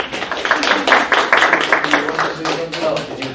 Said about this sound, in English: let's take a moment to thank all of our panelists. One round of applause.